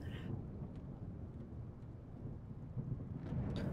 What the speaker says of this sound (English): When you're in the air and you hear the thunder, man, oh yeah, loving that thunder.